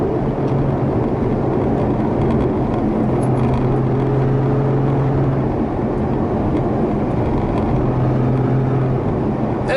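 A 2018 Ferrari GTC4Lusso driving on a public street, a loud steady rumble of engine and road noise with faint humming tones that come and go, continuous throughout with no voices.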